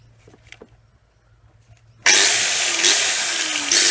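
A power tool cuts into the clutch pedal assembly of a Nissan Skyline R31 during an auto-to-manual conversion. The cutting starts abruptly halfway through as a loud, steady, harsh grinding whine after quiet shop ambience.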